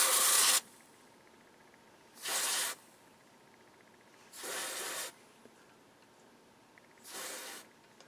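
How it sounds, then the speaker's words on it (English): Freeze spray hisses onto the transistors of a Sony TA-F40 amplifier under repair in four separate short bursts, the first the loudest, with quiet pauses between. "Let me spray some cold on it. Just going to focus some cold on these transistors here."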